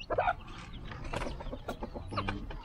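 Captive red junglefowl peck at feed in a backyard, giving a close run of quick, throaty clucks and short chatter that overlap one another.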